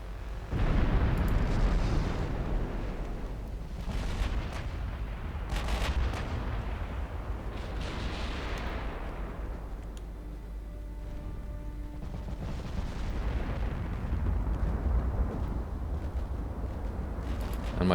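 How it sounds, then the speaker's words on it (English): Battleship main and secondary naval guns fire in a naval battle in Ultimate Admiral Dreadnoughts. Heavy booms repeat over a continuous low rumble of distant gunfire, loud and sustained, with no talking. "my super battleships are firing their main guns on what I think is a light cruiser, and their secondaries on this heavy cruiser"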